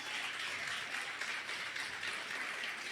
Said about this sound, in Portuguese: Você pode adorar ao Senhor com as suas palmas.